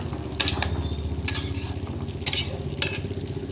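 Vegetables being stirred in a kadai over steady frying, a low continuous sizzle with a few sharp metallic scrapes and clinks of the spoon against the pan, close and loud.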